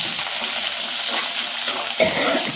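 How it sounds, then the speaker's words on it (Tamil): Curry leaves sizzle in hot oil in a pan while being stirred for curd rice tempering, a steady close frying hiss with a brief scrape near the end. "இதையே வதக்கிக்கலாம் நல்லா"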